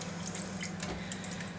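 Wet hand-dyed yarn skeins in autumn colours being squeezed by hand, releasing a steady wet trickle and dripping of water that runs continuously at close range without pause.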